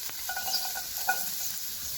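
Onion frying in oil in a pan for paneer masala: a soft, steady sizzle at low level with a few faint clinks, fairly quiet and continuous.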